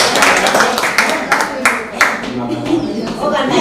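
A small group of people at a class reunion clapping in a short burst of uneven claps, with people talking over and around it.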